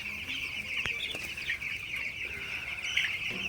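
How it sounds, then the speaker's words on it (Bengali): Eleven-day-old broiler chicks drinking water at night fill the shed with a steady, moderately faint chorus of cheeping and soft clucking, with occasional brief knocks and no speech. "মুরগিগুলো আপনারা দেখতে পাচ্ছেন মাসাল্লাহ খুবই ভালো আছে সুস্থ আছে পানি খাইতেছে সবগুলা মুরগি"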